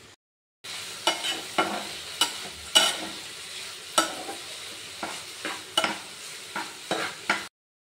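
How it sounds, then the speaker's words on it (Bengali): Potatoes and pointed gourd fry in a pan, with a steady sizzle broken by repeated sharp scrapes and clacks as the pieces are stirred. "আর এখানে হচ্ছে আলু পটল ভাজা"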